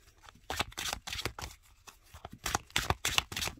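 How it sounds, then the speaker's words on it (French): A deck of oracle cards is shuffled up close in several quick riffling bursts, each a dense papery flutter separated by short pauses. "donc on va mélanger les cartes"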